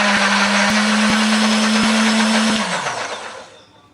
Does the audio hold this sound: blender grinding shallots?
yes